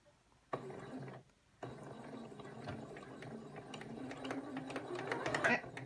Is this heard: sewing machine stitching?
yes